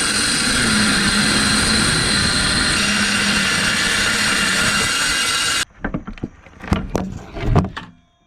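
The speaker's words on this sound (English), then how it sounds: "Let's cut some plywood." Saw cutting plywood in a boat rebuild workshop, a loud steady cutting roar for several seconds that stops abruptly, followed by knocks and handling clatter of the wood.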